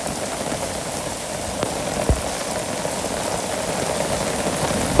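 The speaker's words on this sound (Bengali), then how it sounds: "খুব ভালো লাগে বৃষ্টি" Rain pours steadily in a Bangladeshi village, an even close hiss of drops with one brief soft knock partway through; no one speaks.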